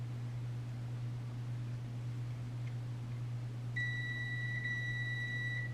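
Multimeter continuity beep while testing the switch wires of a Cry Baby wah pedal: a single steady, high electronic tone starts late and holds for about two seconds over a constant low mains hum and hiss, with no talking.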